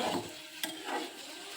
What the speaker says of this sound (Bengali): এই দেখেন আমরা অল্প অল্প করে সাদা তেল দিয়ে রুটিগুলোকে ভেজে নিচ্ছি।